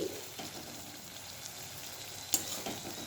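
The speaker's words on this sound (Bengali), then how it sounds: "এবার একটু ভালো করে নাড়াচাড়া করে নিয়ে নামিয়ে নিলে মাছের তেল আমাদের রেডি" Fish fat stir-fried with potato and brinjal, a quiet steady sizzle with an occasional scrape of a spatula against the pan, close up and without voices.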